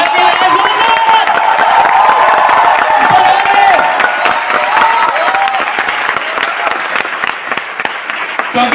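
Loud, sustained applause from a seminar audience at a leadership development training event, dense clapping mixed with cheering and shouts that carries steadily throughout with only slight fading toward the end.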